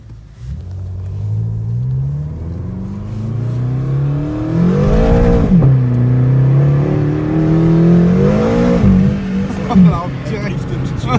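BMW M6 sports car engine in sport mode, a loud, close rumble that rises in pitch as it accelerates through several gear changes, with people talking over it.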